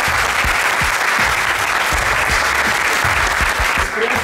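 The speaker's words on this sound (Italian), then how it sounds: "quindi un applauso a tutti quelli che hanno organizzato" Loud, close applause from players and attendees at a Warlord Weekend gaming tournament, dense clapping with a few sharper individual claps standing out, continuing steadily throughout.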